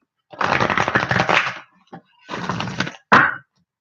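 Two bursts of quick riffling tarot card shuffles, close and crisp, followed by a short sharp snap of the cards being squared.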